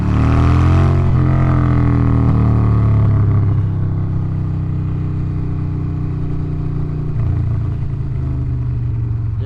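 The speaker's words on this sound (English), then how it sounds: "it's a 21-year-old Dyna twin cam, 88 cubic inch carbureted" A 21-year-old Harley-Davidson Dyna Twin Cam 88 cubic inch carbureted motorcycle engine idles loud and close, a deep uneven rumble after a brief rev at the start, running alone.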